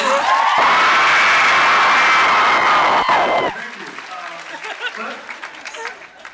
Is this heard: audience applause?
yes